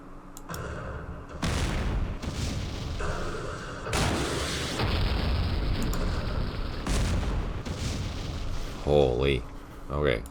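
Missile strikes exploding in the wargame Campaign Series Middle East, a run of heavy booming blasts and rumbling impacts across the span, with a brief voice near the end.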